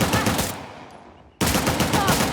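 Gunfire in Uncharted The Lost Legacy: a loud, rapid burst of shots cuts off into a near-silent gap, then another close, sharp volley erupts.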